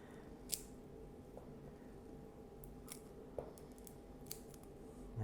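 Clippers trim the sharp tips off a cat's claws, a few faint, brief clicks spaced apart over a steady low background hiss, with no voices.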